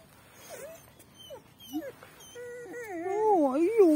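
A dog whines and whimpers outdoors in the cold. The thin cries start brief and scattered, then swell into a louder, wavering moan near the end.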